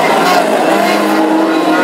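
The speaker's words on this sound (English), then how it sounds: "This is what hot rod racing is all about." Classic hot rod race cars roar past on the Ipswich oval, a loud sustained engine drone dominating throughout, with a commentator's voice running underneath.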